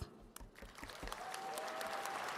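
A New Heights Charter School of Brockton graduation audience gives steady, dense applause for teachers and staff, with a few distinct near claps at the start and a faint whistle-like tone through the middle.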